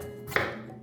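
A single knife chop through stew ingredients on a cutting board, one sharp close thud in a quiet kitchen.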